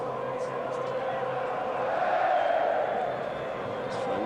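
A football crowd murmurs and cheers through a Borussia Dortmund v Rangers match in difficult weather conditions, a steady distant roar that swells slightly, with commentary spoken over it.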